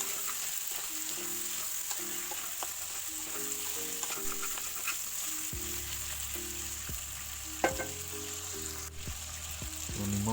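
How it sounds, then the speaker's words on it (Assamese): Chicken pieces with ground sesame frying in a pan, a constant close sizzle with occasional stirring clinks and scrapes, while faint background music plays underneath. "ধুনীয়াকৈ ফ্ৰাই হ'বলৈ দিম গোটেইখিনি।"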